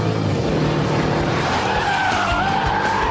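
A Mercedes CLS 55 AMG slides through a corner with loud, sustained tire squeal over a roaring engine, the skid rising in pitch toward the end, close and continuous with no talking.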